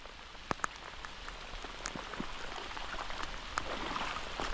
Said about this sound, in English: Good little rain.